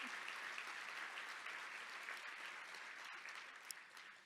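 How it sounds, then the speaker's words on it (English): A luncheon audience claps in a continuous wash of applause that sounds distant and faint, fading slightly toward the end. "clap for that."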